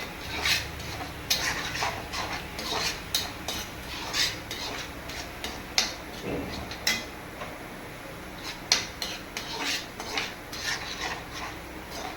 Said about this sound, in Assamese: এতিয়া অলপ সময় আকৌ ভাজি এইখিনি।